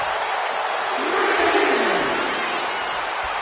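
A capacity arena crowd in the WWE 2K25 wrestling video game roars and cheers, a broad, continuous wash of noise that swells briefly in the middle.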